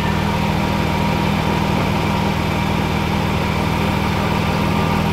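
A 2016 Jaguar F-type S sits idling close by with a steady, deep burbling rumble and an even, unbroken pulse throughout.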